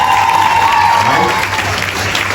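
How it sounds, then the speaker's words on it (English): Audience applause fills a graduation ceremony hall at Portmore Community College, dense steady clapping from a large crowd that carries on loudly throughout, with a voice faintly underneath. "I want you to give a round of applause for Mrs. Andrea Nichols Higgins."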